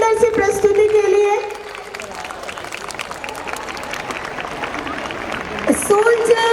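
Applause from an audience at St. Benedict Academy's school Annual Day celebration, a steady wash of clapping and crowd murmur between bursts of amplified music and singing at the start and end.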